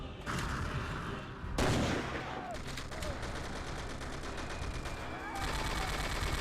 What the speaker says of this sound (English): Kill that damn machine gunner!